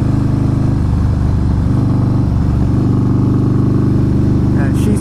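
A Harley-Davidson Fat Boy S engine thumps loudly and steadily at close range, with the rumble swelling slightly as it revs, while someone talks over it.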